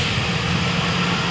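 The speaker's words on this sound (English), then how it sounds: "I guess the engine is running now, and cold starts pretty damn well." A 1970 Dodge Challenger engine idles just after a cold start, not yet warmed up, giving a steady, loud, low rumble that runs evenly throughout with no talking.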